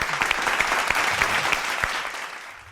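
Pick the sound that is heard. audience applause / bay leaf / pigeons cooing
audience applause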